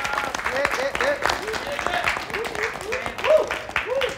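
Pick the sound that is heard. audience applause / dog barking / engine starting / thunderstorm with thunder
audience applause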